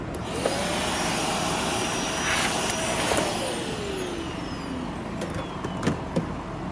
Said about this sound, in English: what we'll do with these is blow these out with the air hose